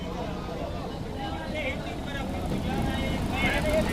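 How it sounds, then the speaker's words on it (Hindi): Steady street traffic with engine rumble and passing vehicles, close and continuous throughout, a voice speaking over it. "इधर ट्रैफिक का शोर है"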